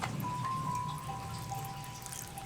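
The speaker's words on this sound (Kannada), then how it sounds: "ನೀರು ನೀರು ಹಾಕ್ಲಾ" A thin stream of water trickles and pours steadily into a mixer jar holding chilli powder for a coconut chutney, close by, with a faint ringing tone.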